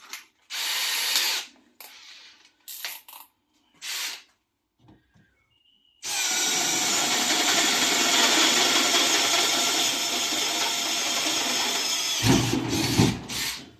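A Makita brushless cordless drill with a 5 Ah battery gives a few short bursts, then a long, loud, steady whine close by, ending in clicking ratchet-like noises.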